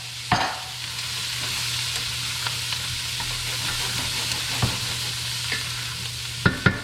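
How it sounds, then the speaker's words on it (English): Onions and celery sizzling in a pan for clam chowder, a steady close frying hiss with a few scattered stirring clicks and scrapes, no one talking. "Now, onions and the celery go in."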